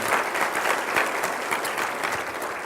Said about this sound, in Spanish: Vamos a dar un aplauso a nuestro auditorio nacional y mundial.